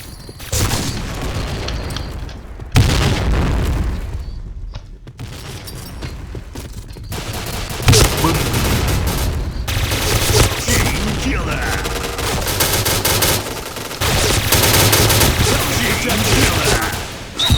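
Dense, loud gunfire and booming blasts in the shooter game Point Blank, continuous overlapping shots with heavy impacts, a brief near-silent gap, then sustained fire under occasional voices.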